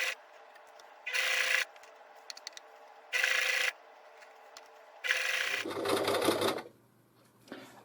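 A domestic sewing machine stitching a jersey knit hair band runs in short bursts, close and loud, with quiet pauses and small handling clicks between runs.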